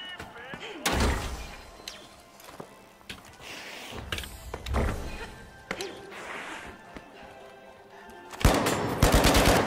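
Gunfire in the shooter game The Finals: several bursts of shots with sharp impacts, a dense rapid volley near the end, loud and close over game background noise, with speech present at times.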